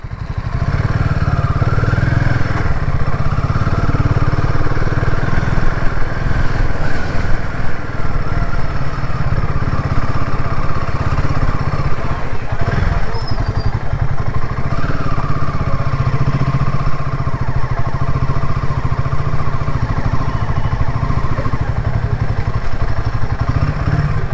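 A motorcycle engine drones steadily while riding the Konkan coastal road from Mumbai to Ratnagiri, a constant rumbling hum with wind rush and occasional faint rattles, running unbroken throughout.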